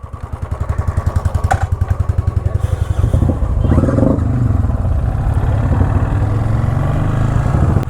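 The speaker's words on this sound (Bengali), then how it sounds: "শাহরুখদা বাইকটা চালালো" A motorcycle engine idles close by with a steady rapid thumping pulse that swells and thickens as it revs slightly, running alone without talk.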